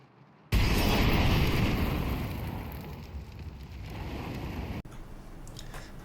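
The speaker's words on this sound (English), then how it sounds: "Molotov. Laying down some fire." A Molotov cocktail bursts into fire in Counter-Strike at the Overpass CT B site, then crackles and roars as a steady, loud burning that slowly fades, close and with no voices.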